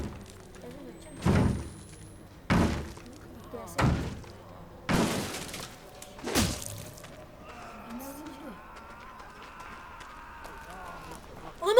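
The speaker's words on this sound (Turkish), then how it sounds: "Aa kapıyı kırıyor." Heavy repeated thuds of a door being bashed in Outlast 2, five loud separate blows spaced about a second apart, followed by quieter rustling and a faint voice in the background.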